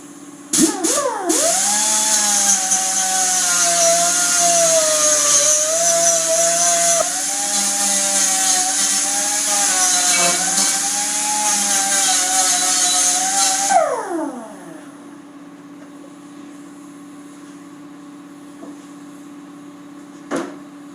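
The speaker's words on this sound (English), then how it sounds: "get started grinding down the paint to prep this for welding" A power grinder strips paint off metal pieces to prep them for welding, part of a homemade ATV snow plow build for a 4x4 tractor; a loud, steady whine runs about thirteen seconds, then spins down into quiet hum.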